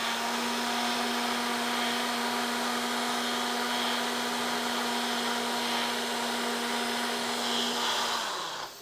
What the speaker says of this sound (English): we're going to whiz up our tomatoes. Let's go to our machine here